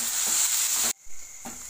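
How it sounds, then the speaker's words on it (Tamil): Ginger garlic paste sautéing in a pan gives a steady, close broadband sizzle that cuts off abruptly partway through, followed by quieter hiss and a faint return of frying. "இஞ்சி பூண்டு சேர்த்துட்டு அதோட பச்சை வாசனை போகிற வரைக்கும் நம்ம நல்லா வதக்கிக்கலாம்"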